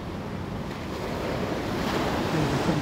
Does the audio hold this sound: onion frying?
no